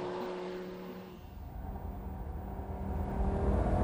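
A Lamborghini Gallardo's engine drones and builds on the Sachsenring race circuit, a steady, close mechanical roar that swells gradually louder toward the end, with no talking.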